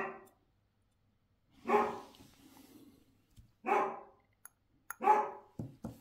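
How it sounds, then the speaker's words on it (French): A pet dog named Lucky barks in three loud, close bursts spaced by short quiet gaps, with a few small knocks and clicks between them. "mon chien il s'est mis à aboyer"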